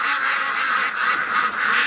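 Several ducks quack steadily and loudly up close in a winter setting, a dense, continuous chorus of overlapping calls with no talking.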